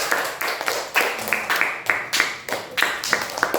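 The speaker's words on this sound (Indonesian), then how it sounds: "Tepuk tangan dulu untuk kelompok." Classroom of pupils claps for a student group after a presentation in a coding lesson, a near, rhythmic unison pattern of sharp claps in quick repeating bursts.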